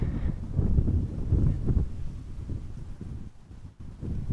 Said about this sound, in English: Wind seems to have picked up a little bit again.